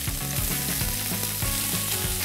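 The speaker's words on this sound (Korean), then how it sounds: "채소 재료를 볶는 정도는 양파가 연한 갈색이 될 정도로 볶아주면 됩니다" Sliced onion stir-frying in a pan for a chicken breast lemon cream pasta sauce, a loud, dense continuous sizzle with scraping and stirring close up.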